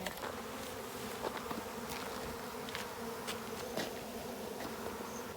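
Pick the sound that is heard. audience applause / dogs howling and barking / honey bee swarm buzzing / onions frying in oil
honey bee swarm buzzing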